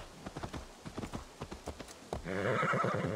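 A war horse in the video game Assassin's Creed Valhalla clip-clops along in a quick, even hoofbeat rhythm, then lets out a loud, drawn-out neigh close by to finish.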